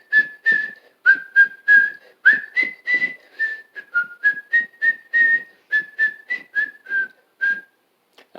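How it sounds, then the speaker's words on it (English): A person whistles the nursery tune Mary Had a Little Lamb alone, a clear, close melody of short, evenly spaced notes with brief pauses between phrases. "So I'm gonna whistle "Mary Had a Little Lamb.""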